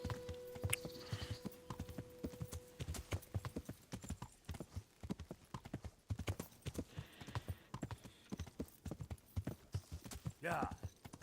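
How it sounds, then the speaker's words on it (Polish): Horse hooves galloping in Kingdom Come: Deliverance, a rapid, even clip-clop run that carries on throughout, with a brief whinny near the end and a voice talking over it. "Ale on ma wytrzymałości ten koń."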